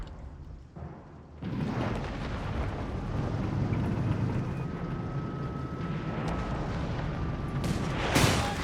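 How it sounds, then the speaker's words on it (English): Grenade assault explosions in Company of Heroes 3 hit with a sudden dense boom, followed by a sustained rumbling roar of battle and a brighter burst near the end. "There you go, grenade assault here."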